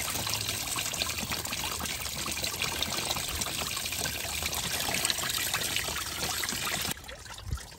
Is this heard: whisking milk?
no